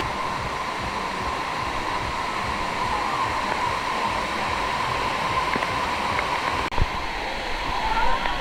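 A theme park waterfall at Fun World in Bangalore pours in a steady, even rush of falling water, close and constant.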